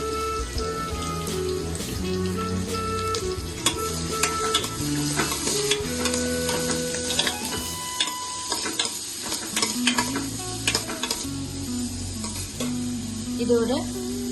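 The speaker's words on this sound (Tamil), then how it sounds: "இதோட 5 நிமிஷத்துக்கு நல்லா வணக்கி எடுத்துக்கலாம்" Chopped large onions sauté with salt in a pan, a steady sizzle running throughout under stirring scrapes and clinks of a utensil, with background noise and some voices.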